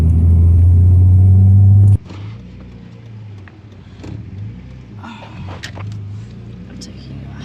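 A Nissan Skyline R34, newly converted to a manual gearbox, gives a loud engine drone for about two seconds, then settles into a quieter cabin rumble with people talking over it.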